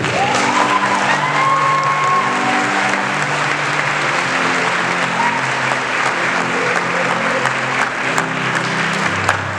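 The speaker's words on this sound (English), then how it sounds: "Give another round of applause." A school audience gives loud, steady applause after a keynote speech to high school seniors. Dense clapping runs at an even level throughout, with some faint cheering mixed in.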